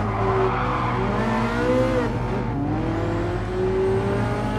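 A Ferrari F40 in GT Sport roars at speed, its engine note rising and falling through gear changes with a squeal of tires, a loud continuous racing sound with no talking.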